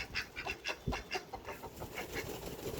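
A rooster clucks in a rapid series of short, bright calls, fairly close, with a low rustle of farmyard noise underneath.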